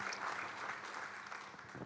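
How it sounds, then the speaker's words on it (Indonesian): Congregational applause during an online Sunday church worship service, a steady dense clapping from many hands sustained throughout at moderate distance. "berikan tepuk tangan haleluya bagi Tuhan"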